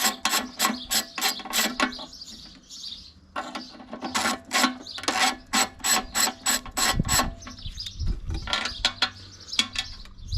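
A ratchet undoes a 13mm bolt on a Briggs & Stratton Quattro mower engine, making several bursts of rapid close clicking separated by short pauses, with a few dull knocks midway.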